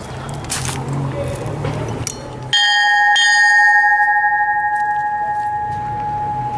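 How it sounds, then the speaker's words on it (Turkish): A single loud strike of a metal hand bell rings out, its bright tone sustaining and slowly fading, after some quiet background rustling. "okulumuzun ilk zili, kampanalı çan"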